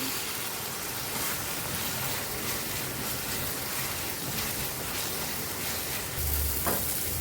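Eggplant gravy for begun bahar sizzles and crackles steadily as it is sautéed in a pan, with soft stirring scrapes here and there, quiet and continuous with no talk.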